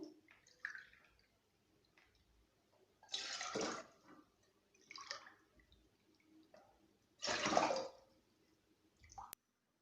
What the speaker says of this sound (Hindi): अब मैं पैन के अंदर 4 कप पानी ऐड कर दूँगी।